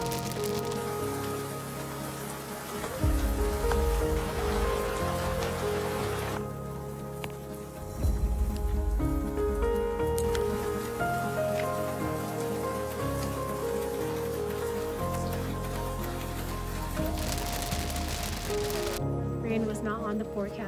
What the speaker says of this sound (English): Dude, it is really raining now.